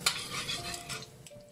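Ginger and garlic slices go into a little hot oil in a wok, with a soft sizzle and a few metallic clinks and scrapes from stirring, all quiet and close.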